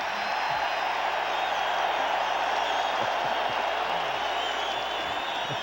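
A packed stadium crowd roars in a steady, dense wash of cheering for William Perry at a 1985 Chicago Bears home game against the Green Bay Packers, continuous and far-off, with faint voices mixed underneath.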